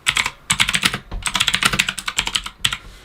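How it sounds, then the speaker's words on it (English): Keys on a computer keyboard clatter in quick, uneven bursts of typing, close and crisp, with brief pauses between runs and no talk. "I have to look down when I'm typing the keyboard too"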